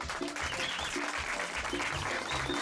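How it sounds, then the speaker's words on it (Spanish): Audience at a Guatemalan dance contest applauding steadily and loudly throughout, a dense continuous clatter of many hands with a little cheering mixed in. "Vamos con los aplausos, la bulla"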